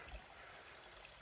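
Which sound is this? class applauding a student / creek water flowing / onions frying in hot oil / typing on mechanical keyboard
creek water flowing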